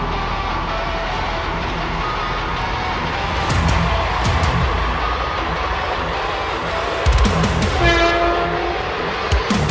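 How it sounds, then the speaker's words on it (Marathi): A train on a rail route near a village, a loud continuous rumble and rattle of passing wagons with a clear horn blast toward the end, close and unaccompanied by talk. "तर हे बघू शकता, आमच्या गावाकडे जाताना असं ट्रेन आहेत"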